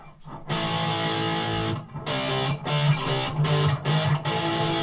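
Heavily distorted electric guitar chords through an amp, loud and gritty, played in short rhythmic bursts with brief gaps between strums.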